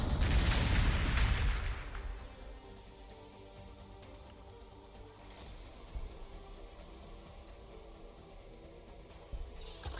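Unit gunfire in the Warhammer 40,000: Gladius strategy game, a loud booming burst at the start that fades into a low rumbling wash, with a couple of faint sharp reports later and no talk.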